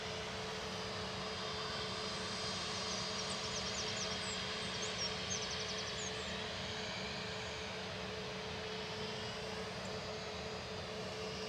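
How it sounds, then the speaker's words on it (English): An EasyJet Airbus A320neo departs, a steady, distant roar of jet engines holding fairly faint and constant throughout. "EasyJet 2183 departing next to Geneva, A320neo"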